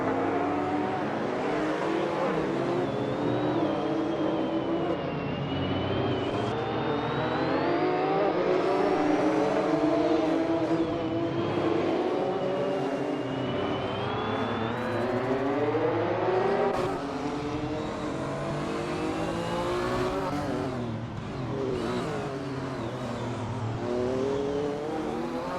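Retro street cars race on the Alastaro GP track in a racing video game, with several engines droning and revving continuously and loudly, one car's tone rising and falling over the others.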